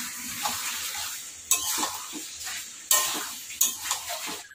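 Chicken being stir-fried in a pan, with a spatula scraping and clanking against the metal at intervals over a soft sizzle, close by.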